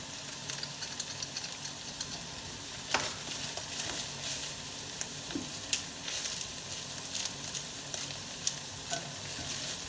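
Onions frying and caramelizing in a pan for kibbeh in beet soup, a steady close sizzle with occasional clinks and scrapes of stirring, no voices.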